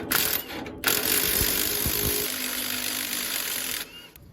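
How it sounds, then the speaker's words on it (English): A ratchet wrench clicks rapidly and continuously while loosening clamps on a damaged axle of an open car trailer, a close, bright mechanical rattle with a few deeper knocks underneath. "Next up, I'm taking these clamps off."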